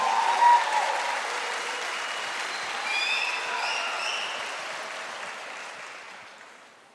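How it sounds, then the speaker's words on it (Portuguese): A church congregation bursts into loud, sustained applause from the start, swelling again midway before thinning out and fading toward the end, with scattered cheers mixed in. "Se você puder, aplauda ao Senhor bem forte."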